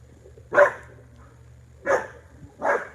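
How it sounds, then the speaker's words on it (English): A dog barks three times, one sharp bark then a pause before two more close together, against a quiet background. "Stop barking."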